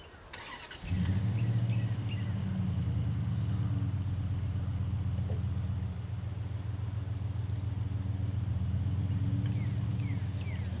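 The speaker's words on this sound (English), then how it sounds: "and the other one will drive away" A truck engine starts up near a beehive yard, then settles into a steady, loud, low rumble that carries on as the vehicle pulls away, with faint birdsong in the background.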